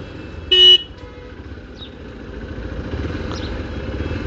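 A single short car horn toot sounds over a low rumble of passing cars and motorcycles on a busy road, with engines idling and moving nearby.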